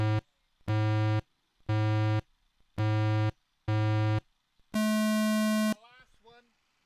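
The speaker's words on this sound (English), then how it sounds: "There are 5 pre-beeps and then a start beep, so you've got 6 seconds." A race timing system sounds five short, evenly spaced start-gate pre-beeps one second apart, then a longer, higher final start beep, loud and clean, at an FPV drone time trial, followed by brief faint talk.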